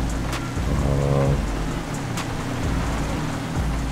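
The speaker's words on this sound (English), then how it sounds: "Now we got the rain coming." Rain falls around a 2024 Toyota Tacoma out on an off-road outing, a dense steady patter under a low vehicle rumble, with a few sharp drop taps and a brief tonal hum.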